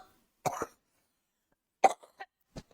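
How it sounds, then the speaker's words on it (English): A few short coughs from a person, one pair of bursts followed by a louder cough and smaller hacking coughs, close and fairly quiet with silence between. "I didn't mean to cough on you."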